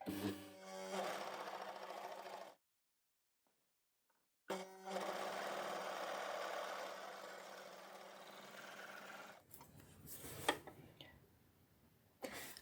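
An overlocker or serger runs in two steady bursts while sewing a blind hem on a folded fabric edge, separated by a short pause, then gives way to quieter handling noises and clicks.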